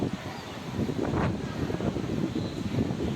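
Strong cold wind buffeting the microphone in low rumbling gusts at a park in Yuen Long, Hong Kong, continuous and fairly loud, with faint distant traffic-like hum underneath.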